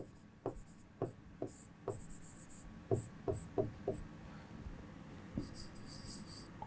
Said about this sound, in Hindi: जैसे मैं उत्तर लिख रहा हूं